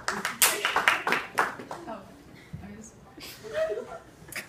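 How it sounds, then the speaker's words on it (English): Audience at a costume contest breaks into a burst of clapping that tapers off, followed by scattered chuckles and murmuring. "Clap for only one person."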